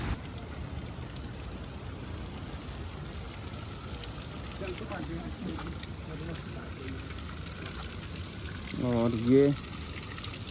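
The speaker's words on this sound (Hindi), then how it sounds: "पानी नलके से निकल रहा है, इसको देखते हैं कितना गर्म है।" Hot spring water flows from a tap in a continuous soft splashing hiss at moderate distance, while a voice speaks briefly near the end.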